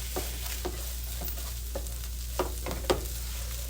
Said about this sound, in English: I'm going to go ahead and toss my rice around in here.